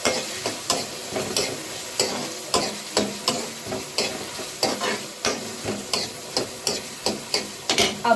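Capsicum frying in a home kitchen pan, with a spoon stirring in a regular rhythm of sharp scraping knocks about twice a second over a continuous sizzle, close and fairly loud.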